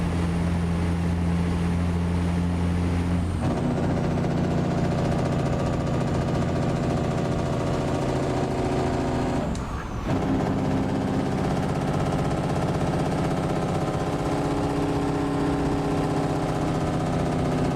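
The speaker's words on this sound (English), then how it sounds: "That way y'all can hear the truck a little bit more." A steady, loud truck engine drone with a low rumbling hum in American Truck Simulator, a Peterbilt 389 on a highway downgrade, briefly dipping near the middle before resuming at a constant level.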